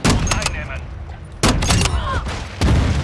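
Gunfire in Call of Duty Modern Warfare II multiplayer: three sharp, loud shots spaced about a second apart, amid game ambience and a voice talking.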